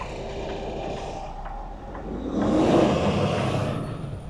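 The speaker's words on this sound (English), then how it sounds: "there's this one truck coming" A heavy truck rumbles past on the road, its engine noise swelling as it nears and fading slowly, with a steady low drone throughout.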